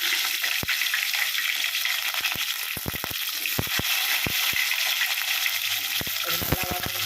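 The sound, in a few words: onions and tomatoes sautéing in a pan for chicken curry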